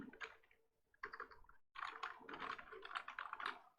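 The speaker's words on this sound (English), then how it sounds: "My typing is just all over the place" Fast, uneven typing on a computer keyboard while coding, a close run of clicking keystrokes in quick bursts with a brief pause, no talking.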